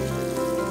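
Spice paste sizzling steadily in a pan while cooking shahi paneer without garlic or onion, a brief, even, close frying hiss with no voices.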